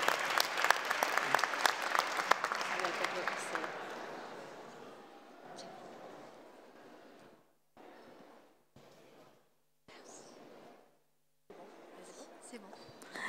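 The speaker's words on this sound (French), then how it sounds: "On peut l'applaudir très fort" Audience applause in a hall at an alumni engagement event: loud, dense clapping for about five seconds, then thinning into scattered claps broken by quiet gaps, with some voices murmuring.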